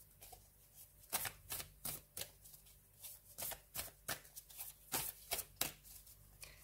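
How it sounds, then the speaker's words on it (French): Tarot cards shuffled and drawn by hand, a quick irregular series of crisp riffling slaps and flicks, close and fairly quiet with no talk. "Je vais nous prendre encore une petite carte pour vous."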